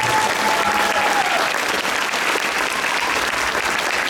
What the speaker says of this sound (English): Put one more round of applause for these guys.